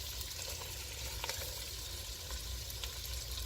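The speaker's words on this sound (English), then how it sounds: "cook these vegetables down, melt the butter, and let them cook for about 2 to 3 minutes" Vegetables cook in melted butter in a pot for curry chicken and rice soup, giving a steady, close sizzle and frying hiss with faint stirring clicks throughout.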